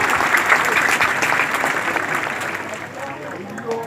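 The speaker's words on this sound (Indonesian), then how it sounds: "Tepuk tangan." Applause from a crowd at a PSHT Teratai martial arts belt promotion gathering in Ponorogo, a dense steady clapping that carries through the whole stretch and eases slightly toward the end.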